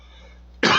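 A single loud, close cough bursts out abruptly near the end, following a quiet stretch with only a low hum.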